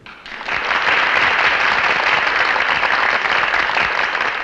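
A film's theater audience breaks into loud, sustained applause that swells within the first second and continues unbroken as a thick crowd of clapping hands.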